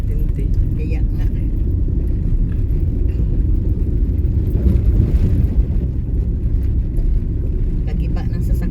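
Steady low road rumble and engine drone inside a moving car, loud and continuous throughout, with voices talking inside the car.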